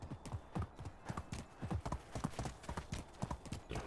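Steady clip-clop of horse hooves in the Medieval Dynasty game, a close, even trot of repeated hoof strikes running the whole time with a faint background hum.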